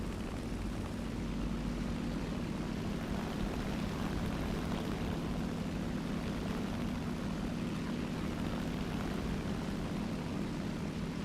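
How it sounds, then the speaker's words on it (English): A torpedo bomber drones through the air in a naval combat video game, a dense, unbroken propeller-engine roar that stays loud and even from start to finish. "let's go take in a torpedo bomber"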